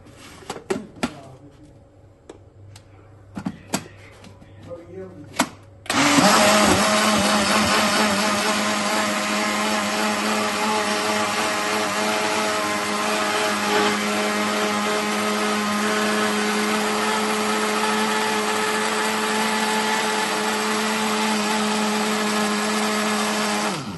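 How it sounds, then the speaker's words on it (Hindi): A mixer grinder churns roughly 1.5 kg of yogurt for kadhi: a few short clicks and bursts first, then a loud, steady high-pitched whir runs continuously to the end. "ये हो गया, दही मैंने कर दिया ग्राइंड"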